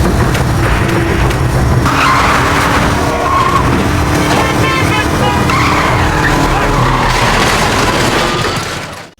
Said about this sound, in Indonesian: Suho terjatuh dari motor yang membuat kakinya cedera.